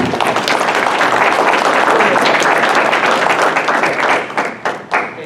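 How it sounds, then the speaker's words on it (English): A car club audience claps for veterans at a submarine-themed event, loud and close, a full burst of applause holding steady before tapering into scattered final claps. "let's give the veterans a round of applause right now"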